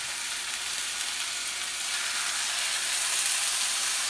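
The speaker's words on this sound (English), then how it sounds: "you can hear the sizzle." Continuous, loud, even hiss of salmon fillet frying skin side down in hot oil in a pan, bright and crackly, with no talking.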